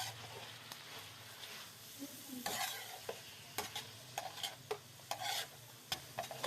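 Onions and tomatoes fry with garlic on a tawa for a beef liver dish, a soft steady sizzle broken by scraping stirs of a spoon; quiet, no talking.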